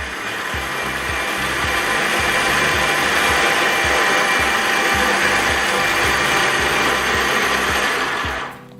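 A Pelamatic electric peeler runs steadily while peeling potatoes, giving a loud continuous motor whir with rhythmic rattling and scraping from the tumbling potatoes, then winding down abruptly at the end.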